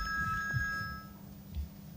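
An incoming call sets a telephone ringing, a steady electronic ring tone sounding over low background rumble, then fading out partway through.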